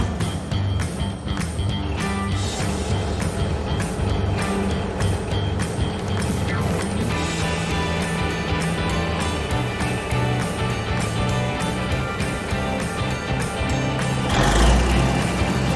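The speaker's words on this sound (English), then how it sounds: "Road roller. Uses a heavy drum to flatten and compact soil," A road roller works over soil, gravel or asphalt, its heavy engine droning loud and steady with rattling, grinding texture throughout and a brief louder surge near the end.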